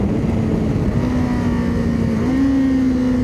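Kawasaki KLE 500 motorcycle engine droning steadily at close range, its pitch stepping up slightly twice as it downshifts, under continuous wind and road noise with no talking.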